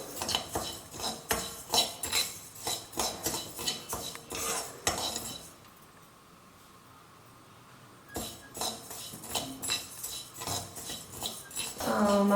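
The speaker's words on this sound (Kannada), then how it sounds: "ಅಕ್ಕಿಯನ್ನು ಕೆಂಪಣ್ಣ ಬರೋ ಹಾಗೆ ಹುರ್ಕೊಳ್ಬೇಕು ಫಸ್ಟಿಗೆ" A metal spoon scrapes and clinks steadily against a pan as rice is stirred while dry-roasting, in rhythmic close strokes. There is a brief quiet pause midway, then the stirring resumes.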